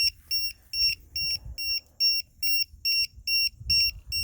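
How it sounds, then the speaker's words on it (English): A battery voltage alarm on an E-flite Carbon Z Cub SS RC plane beeps in sharp, high, regular pulses, about two per second, close and insistent, with faint handling noise underneath. "I'm going to cover the annoying alarm."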